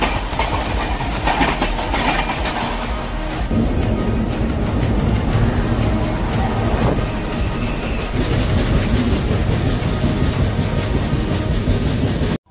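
Gowthami SF Express train running on track between Kakinada Port and Lingampalli, with a loud, continuous rumble and rhythmic clickety-clack of wheels over rail joints, close and steady throughout.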